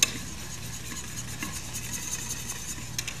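A wire whisk stirs a cooking roux in a pan, making a close continuous scraping and swishing with faint sizzling beneath it.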